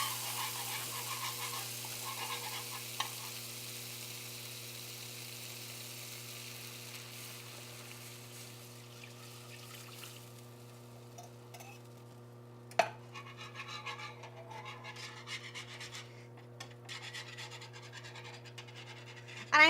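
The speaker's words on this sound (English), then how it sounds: "I'm just going lightly with my whisk because this is a non-stick pan" A whisk scrapes lightly through curry paste and coconut milk in a used non-stick pan, giving soft rhythmic scratching and a gentle simmer sizzle under a steady low hum, with a sharp clink near the middle.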